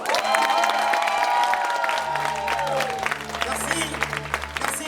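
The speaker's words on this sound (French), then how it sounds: "Est-ce qu'on peut faire un tonnerre d'applaudissements à l'Institut français du Togo?" Audience applause and cheering at a live stage show, the Calebasse Club performance at the Institut français du Togo: a steady wash of clapping and crowd noise over sustained musical tones, with a voice speaking partway through.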